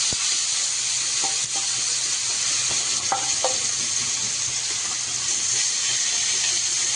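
Oil heats on a griddle in a home kitchen and sizzles in a steady, dense hiss throughout, with a few faint utensil clinks and taps over it.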